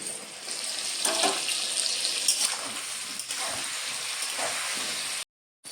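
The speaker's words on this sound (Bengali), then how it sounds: "প্রথমে আলুগুলো এবার ভেজে নেব" Potatoes frying in hot oil for a Bengali duck curry, a steady broadband sizzle and hiss running close and continuous, with a few brief louder crackles and a short drop to silence near the end.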